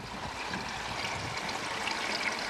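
Water trickles and streams steadily from a homemade filter tub back into a garden pond, a faint, continuous burble with no voices.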